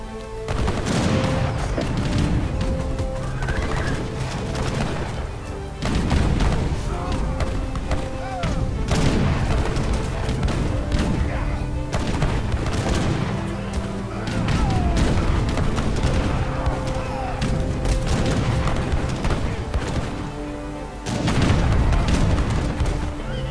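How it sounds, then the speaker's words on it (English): Culverin and Abus gun artillery from the strategy game Age of Empires 3: dense, continuous volleys of booming cannon shots and gunfire crackle in sustained loud bursts, with a commentator's voice running underneath. "Well, 3 Culverin versus 1. But he has the Abus gun though."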